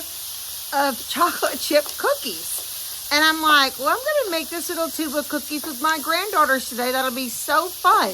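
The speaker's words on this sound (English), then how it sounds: "He's grilling his onions. That's what that noise you hear." A soft, continuous sizzling hiss of onions on a grill runs in the background while a person talks over it.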